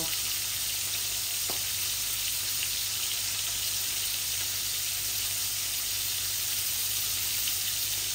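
Garlic sizzling steadily in hot oil in a pan, a continuous bright crackling hiss at even loudness throughout, close and alone with no talking.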